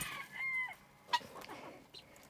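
Guinea fowl calling inside an aviary, a brief shrill two-part cry followed by a sharp short note, near and moderately loud over quiet background.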